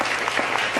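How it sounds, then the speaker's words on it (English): A studio audience claps steadily for a guest named Ella on a talk show, a brief dense wash of applause with no voices. "Give her a big round of applause."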